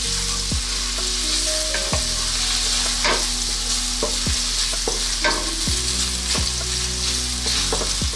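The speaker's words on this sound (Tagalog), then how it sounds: "Medyo pakuloyin lang natin yung ating bawang." Chopped garlic sizzles steadily in hot cooking oil in a pan, the start of a Filipino stuffed milkfish dish, with sharp spoon-against-pan clicks from stirring roughly every second, close and fairly loud with no talking.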